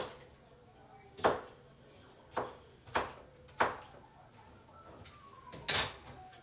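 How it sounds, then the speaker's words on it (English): Knife cutting through a raw onion in a home kitchen, heard as five separate sharp chops spaced irregularly over a quiet background. "we want to just cut some of the onion"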